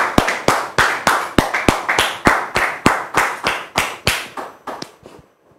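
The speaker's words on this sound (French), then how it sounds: "Dame Judith, que nous recevons sous vos applaudissements" Studio audience applause on a French television talk show comes as sharp, rhythmic claps in unison, about eighteen evenly spaced beats that gradually weaken and trail off into silence.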